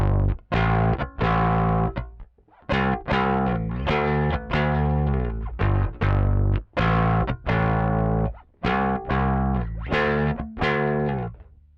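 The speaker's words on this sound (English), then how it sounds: "More recently, bass drive pedals have gotten a lot more bright, but this stays to like a vintage sound, like more mid-range." Bass guitar picked through a vintage-voiced, mid-range bass drive pedal on a pedalboard, playing a steady run of gritty, distorted notes with sharp attacks and short decays, loud and up front, no talking.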